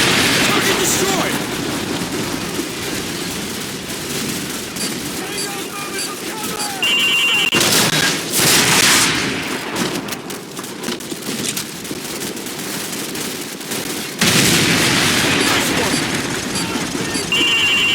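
Gunfire from a battle in Call of Duty 4: Modern Warfare (2007) comes in repeated loud bursts and booms, with shouted voices and electronic beeps mixed in.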